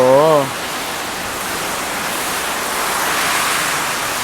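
A brief voice at the start gives way to a dense, steady roar of heavy rain that continues unbroken.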